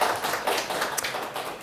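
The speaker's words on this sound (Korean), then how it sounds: "이럴 때 우리 용기 있는 이분께 박수 한번 드릴까요" A seminar audience in a product-planning training class claps for a volunteer presenter, a dense flurry of overlapping hand claps that is steady and fairly loud across the room.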